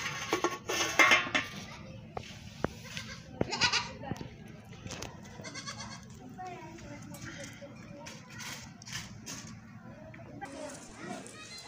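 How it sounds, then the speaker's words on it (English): Baby goats bleating outdoors while grazing, several short cries scattered among children's voices, clinking dishes and cutlery, with people talking throughout. "Beautiful baby goats eating grass in funny mood."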